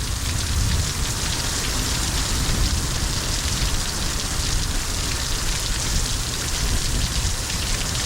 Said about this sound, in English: Oh, the air plants are getting some nice rain.